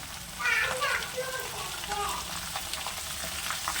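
Green chillies, curry leaves and turmeric sizzle steadily in hot oil for mutton fry, a constant bright crackle with light stirring, while a voice talks over the cooking.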